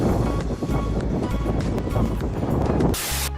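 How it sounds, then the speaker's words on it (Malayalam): Cold wind gusts steadily at a fishing port in Bahrain, a broad, loud, continuous rush buffeting the microphone close up, with no voices, then easing slightly near the end. "അത്യാവശ്യം നല്ല രീതിയിൽ തണുത്ത കാറ്റടിക്കുന്നുണ്ട്"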